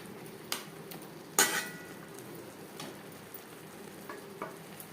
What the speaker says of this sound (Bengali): মাছের সাথে টমেটোর পেস্ট বেশ ভালো করে মিক্স করে দেবো